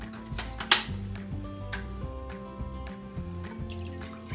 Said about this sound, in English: we're going to start by adding the broth to a 5-quart Dutch oven